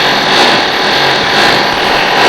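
A power drill bores into a wall at night, heard as a continuous, loud, gritty whir that holds steady for the whole stretch with no voices.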